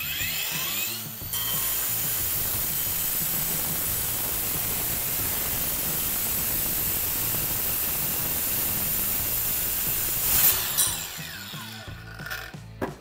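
Cordless battery-powered grinder cutting porcelain tile, a steady, loud, gritty whine that holds for about nine seconds before spinning down, with a brief flare near the end of the cut.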